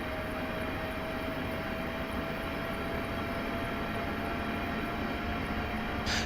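A Class 465 electric train under full power in Train Simulator 2016, heard as a steady loud broadband roar with a constant high whine, unbroken for the whole clip.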